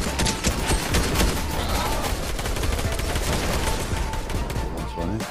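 Dense, continuous gunfire in Fortnite with rapid overlapping shots and booms, loud and close, with faint voices mixed in.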